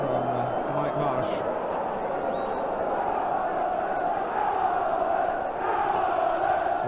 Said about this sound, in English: The crowd trying to lift Oldham here